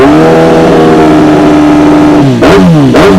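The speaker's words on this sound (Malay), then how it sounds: "so jom kita review bunyi motor ni" A 2013 Kawasaki ZX-10R Gen 4 sport bike fitted with an SC Project exhaust idles with a steady, loud drone, then is blipped twice in sharp, close revs near the end, the pitch jumping up and falling back each time.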